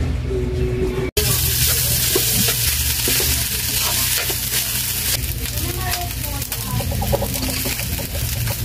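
Food frying in a pan, a loud continuous sizzle with scraping stirs, with chickens clucking nearby and some talking in the background.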